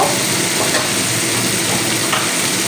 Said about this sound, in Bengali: তো আমি জল দিয়েছি